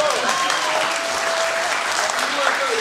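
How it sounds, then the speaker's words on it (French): Sustained audience applause at a school event, a thick continuous roll of clapping with a few voices cheering and calling out above it. "les applaudissements encore"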